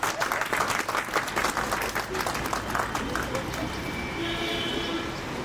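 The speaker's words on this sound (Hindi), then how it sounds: "जोरदार तालियां" A crowd at a farewell ceremony claps steadily and enthusiastically, a dense, sustained wash of applause filling the room.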